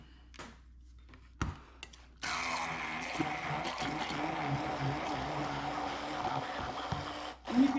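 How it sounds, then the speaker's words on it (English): A kitchen blender whirs through a Tex-Mex sauce of cumin, cracked black pepper and water, starting after a few brief knocks and then running in a loud, steady grinding drone to the end. "and then we're going to blend."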